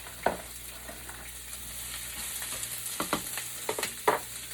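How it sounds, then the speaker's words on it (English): Onions sizzle in an Instant Pot for birria tacos, a soft, steady frying hiss broken by a few sharp clacks and stirring scrapes. "And now we want to drop in our onions"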